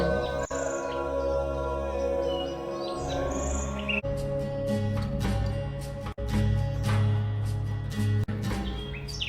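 A nightingale sings in a tree in a forest, with bright, repeated chirps and trills over a steady, soft tonal background.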